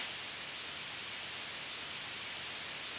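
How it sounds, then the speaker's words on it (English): A long, steady white noise sweep from a music mix hisses loudly and evenly across the whole stretch, alone with no other sounds. "So it's like a really long white noise sweep."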